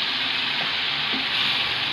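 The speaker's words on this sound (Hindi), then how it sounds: "चम्मच हिला के" Urad dal cooking in a pot while a spoon stirs it, a steady soft sizzle and bubbling hiss with faint scraping, close and continuous, no voices.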